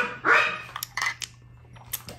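Dogs indoors giving a loud bark followed by several shorter yips and barks in irregular bursts, fairly close, with a low steady hum underneath.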